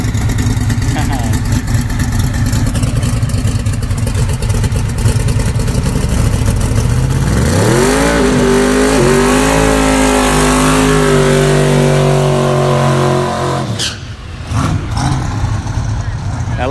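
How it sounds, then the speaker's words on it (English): Big block twin turbo Mustang drag car at a dragway test session, its engine roaring loud and steady, then climbing through rising revs as it accelerates hard, fading slightly near the end; a voice talks over it. "This is Joe Gauchi driving the big block twin turbo Mustang."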